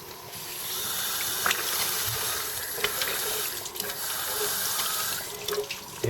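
Water gushes steadily through a car's cooling system as it is reverse flushed, a continuous broadband rush close by with a few faint clinks and no voices.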